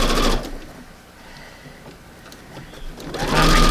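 A home sewing machine stitching fabric at a quarter-inch seam, its steady motor whir loud at the start and end with a quieter, slower stretch between.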